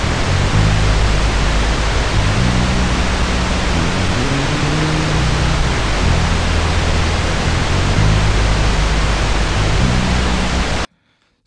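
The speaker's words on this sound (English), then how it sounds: "I'm gonna simulate a noise floor with some pink noise" Loud, steady pink noise hisses evenly for about eleven seconds, with faint bass notes moving underneath, then cuts off abruptly to silence.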